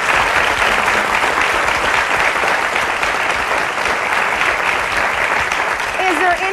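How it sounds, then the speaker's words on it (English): A studio audience at a television talk show applauds loudly and steadily, a dense, even wash of clapping from many hands that lasts throughout, with a voice beginning to speak near the end. "how many of you in here by applause do agree with what Marilyn did?"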